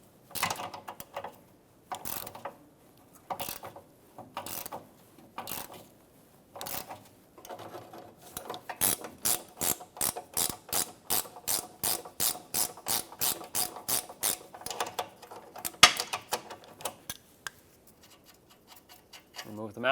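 A ratchet undoing the rear sway bar link mounting nut on a 2014-2021 Mazda 6, spaced clicks at first and then a fast, even run of close ratcheting clicks before it slows and stops.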